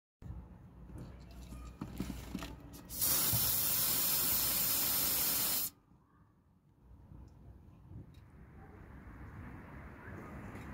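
Contact cleaner is sprayed into a car's cooling fan switch in one loud, close hissing burst lasting a few seconds, set against the steady whir of the running cooling fan and some handling noises.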